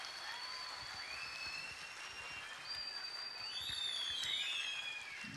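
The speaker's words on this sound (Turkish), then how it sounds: "bir teşekkür alkış falan yapmak ister misiniz?" An audience at a student talent competition award ceremony applauds in thanks to their teachers, a steady wash of many hands clapping that swells slightly toward the end, with thin whistle-like tones drifting above it.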